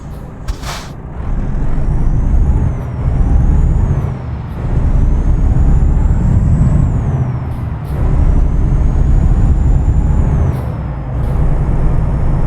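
A Volvo FH16 Classic truck in a driving simulation game, its engine droning loudly and continuously with a deep low rumble, rising and falling with gear changes, plus short sharp hisses of air brakes releasing at intervals.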